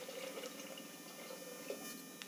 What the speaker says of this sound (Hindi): 6 कटोरी हम इसके अंदर पानी ऐड करते हैं।